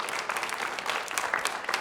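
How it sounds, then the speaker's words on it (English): Audience applause for high school quiz players in a studio, a dense, steady clapping from a crowd, fairly close and sustained through the short stretch. "can we give them a round of applause?"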